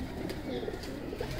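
Red-eyed pigeons cooing softly at close range, a faint, steady low murmur of coos with no speech over it.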